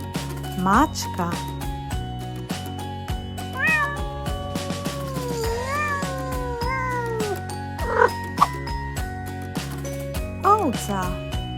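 A cat meows repeatedly, several drawn-out and rising meows, clear and near, over soft background music.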